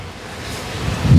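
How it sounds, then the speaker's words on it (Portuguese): A strong gust of wind on a rainy Copacabana street in Rio de Janeiro, a brief rising rush of roaring air that swells loudest at the end, with no voices. "Uou, ventania."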